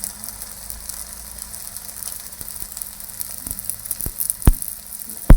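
Holige flatbread sizzles steadily in oil on a pan, a soft continuous frying hiss with a few sharp clicks and taps toward the end, no talking.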